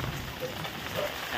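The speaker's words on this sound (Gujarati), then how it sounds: "પતરાનું પાણી બધું આ માર્ગમાં આવે." Rainwater pours off a tin shed roof during village rain, a steady close splashing hiss with no break.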